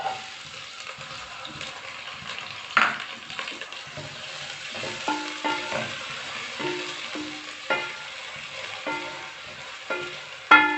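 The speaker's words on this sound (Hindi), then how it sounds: "ऑयल डाल लेते हैं पहले। साथ में प्याज डाल लेते हैं।" Onions frying in oil in a pan give a steady close sizzle and crackle, broken by repeated scraping strokes of a spoon stirring them, with no talking.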